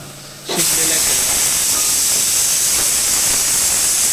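Steam bursts from a pressure cooker full of beans with a loud, sudden hiss that holds on as a strong, steady whistle of venting steam close by.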